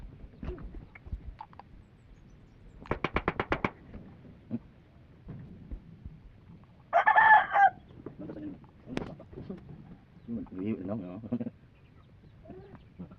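A rooster crows in bursts, with chickens clucking in short, irregular calls. Voices talk nearby in between, and there is occasional background knocking.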